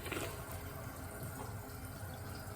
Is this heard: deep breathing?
no